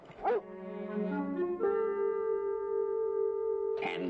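A dog whines in a long, drawn-out tonal whimper, preceded by a short yelp and ending with another brief yip, close and fairly loud, with no talking over it.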